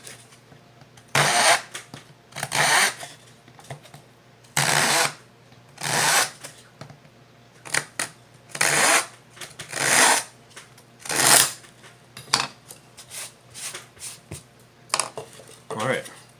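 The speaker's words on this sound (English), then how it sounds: "I'm going to use just a little razor saw here for this end, show you how that works" A small razor saw cuts through the end of a handmade wooden Native American flute in a series of short, bright rasping strokes with brief pauses between them, close up.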